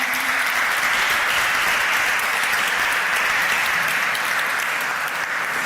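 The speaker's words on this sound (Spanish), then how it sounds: "os pido un fuerte aplauso para Ferran Climent" Steady, loud, even applause from a conference audience welcoming a speaker, dense clapping that holds level throughout without any voices.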